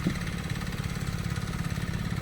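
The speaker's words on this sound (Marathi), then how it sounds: "हो त्यांचं ट्रॅक्टर हा" Tractor engine running in a paddy field during rice sowing in Kumbhavade, Rajapur, a steady close mid-pitched chugging idle throughout.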